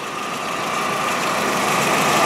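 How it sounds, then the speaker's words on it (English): The 2-liter four-cylinder engine of a 2001 VW Jetta GLS idles with a steady, even rumble and mechanical hum, close and constant throughout. "This is the 2-liter four-cylinder engine in this baby."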